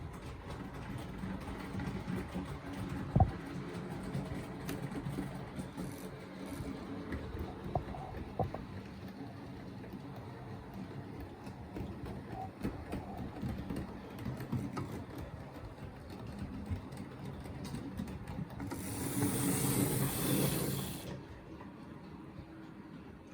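A Hornby APT model train, a cheap toy-fair locomotive running a little dry, hums faintly and steadily along its track, with a brief louder hissing burst near the end.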